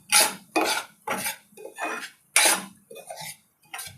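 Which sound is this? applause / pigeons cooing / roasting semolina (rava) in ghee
roasting semolina (rava) in ghee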